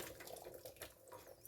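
Cooked egg noodles drained in a kitchen sink: a soft, faint splashing rush of water with small irregular bursts and clatter, brief and continuous.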